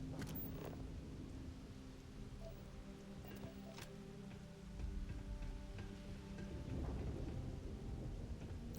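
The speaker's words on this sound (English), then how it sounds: "I love the rain" Rain patters steadily while low thunder rolls in a game world, with a deeper rumble swelling in the second half and scattered sharp ticks and drips over the quiet wash.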